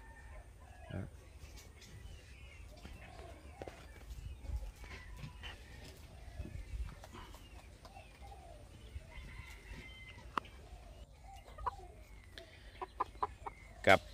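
Five-month-old Polish chickens, hens and roosters in a farm pen, give scattered soft clucks and chirps from several birds, with a few sharper calls near the end, under a faint steady hum and talk.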